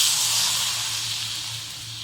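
Water poured into a hot pan of fried onion, turmeric, coriander powder and chilli powder gives a steady, close hissing sizzle that slowly fades, with no talk.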